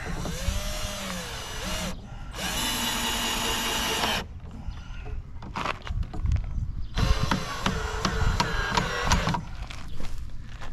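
A power drill whirs in several bursts of a few seconds each, driving screws into a wooden 4x4 mailbox post, with clicks and knocks of each screw biting into the wood between them, close up.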